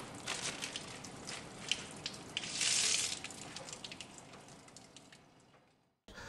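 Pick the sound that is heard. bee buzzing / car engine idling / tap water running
tap water running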